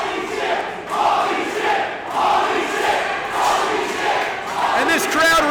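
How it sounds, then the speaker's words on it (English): Wrestling crowd at an independent show roaring in sustained, swelling waves after a steel chair is thrown in the ring, loud and continuous throughout with a few higher cheers near the end. "this crowd reacting favorably to that"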